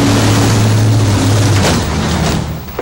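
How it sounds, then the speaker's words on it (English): Clark County fire engine 61 rolls over a speed bump, giving a loud, heavy rumble with a jolting thud as the truck crosses. The noise fades slightly toward the end, and no one speaks. "You're in Clark County Engine 61, and you're about to hit a speed bump."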